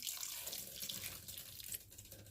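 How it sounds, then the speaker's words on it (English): Water pours steadily from a tap into a cooking pot for cranberry sauce, a soft continuous splashing stream heard faintly and close, with no voices. "Which will be 2 cups of water going in"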